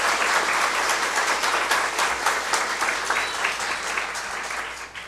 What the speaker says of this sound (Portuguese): Eu queria uma salva de palmas para os nossos padres,